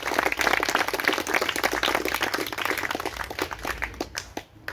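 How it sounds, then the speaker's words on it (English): An audience applauds with dense, steady clapping at a press update event, loud at first and then thinning out toward the end. "we wish her well and ask a round of applause for Emmy, who couldn't make it here today."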